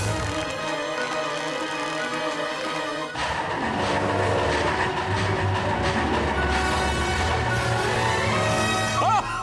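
A ridiculously slow-moving train rumbles and clatters loudly and steadily in the Nightmare Before Christmas: Oogie's Revenge video game, with game sound layered over it.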